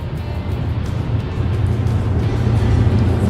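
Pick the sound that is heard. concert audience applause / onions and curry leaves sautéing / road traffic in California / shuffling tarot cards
road traffic in California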